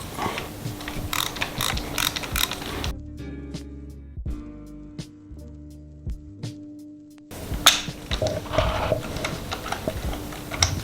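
A ratchet wrench with a 5/8 spark plug socket and extension clicks steadily in bursts while removing a spark plug, the close pawl ticks running through a short quieter middle stretch.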